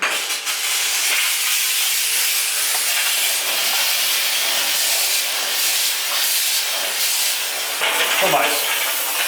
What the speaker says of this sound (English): So we're going to go for steam.